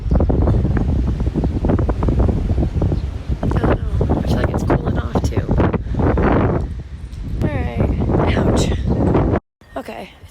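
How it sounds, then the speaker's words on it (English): Gusty wind rising ahead of a spring storm with light rain sprinkles buffets the microphone outdoors. It makes a loud, rumbling roar for about nine seconds before cutting off. "If you can hear me, the wind is just starting to pick up."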